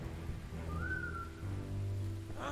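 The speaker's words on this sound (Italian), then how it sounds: "dobbiamo tirarne un altro fischio" A short rising whistle tone sounds once in the World War II stealth game War Mongrels, clear but moderate over a steady low rumble of rain-like ambience, with no talking.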